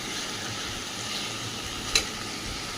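Chicken curry being sautéed and stirred in a pan, a steady soft sizzle throughout with a single brief clink of a utensil near the end.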